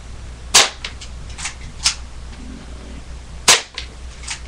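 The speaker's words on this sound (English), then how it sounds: "Fourth shot. Fifth shot. Sixth shot." Airsoft gun firing at a target during practice: a few sharp, dry snapping shots spaced a second or more apart, each followed by a faint impact tick, over a quiet steady background hum.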